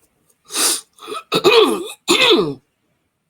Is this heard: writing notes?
no